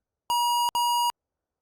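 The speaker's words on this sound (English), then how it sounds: "You got like this weird beep." Two identical electronic tones sound back to back, each about a third of a second long, clean and steady with a tiny gap between them and then silence.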